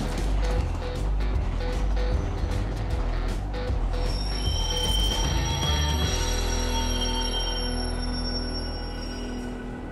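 A metro train in Washington rumbles loudly along the track, then its wheels squeal in long, high, sustained tones as it slows, with the low roar continuing underneath.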